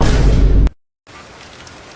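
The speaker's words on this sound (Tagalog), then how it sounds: "Kahit malakas ang ulan" Heavy rain pours in a loud, dense rush that cuts off abruptly into a brief silence, then returns as a softer, steady downpour.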